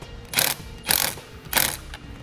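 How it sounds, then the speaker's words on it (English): Ratchet tightening a 10 mm nut onto a stud to secure a ring terminal while installing trailer wiring on a 2017 Volkswagen Golf, heard as three close, loud bursts of rapid clicking, roughly evenly spaced, with no talk. "we'll slide our ring terminal on over that stud and re-secure our nut"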